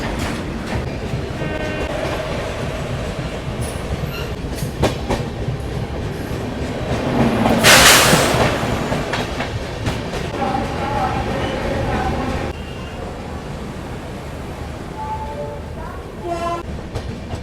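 The Garib Rath Express rolls along with a steady rumble and clatter from onboard while the Tejas Rajdhani Express passes the other way in a louder rushing swell, and a horn sounds. A voice talks over the train noise.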